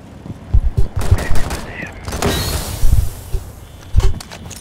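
Several sharp bangs and rattling impacts during a Rainbow Six Siege pro league match, including a bright stun-grenade burst near the middle amid scattered gunfire-like hits.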